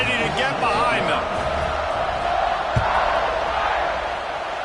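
Football stadium crowd at a Colorado State game roaring steadily as the teams line up for a kickoff late in the fourth quarter, a dense, sustained wash of cheering with a few shouts and one brief thump partway through.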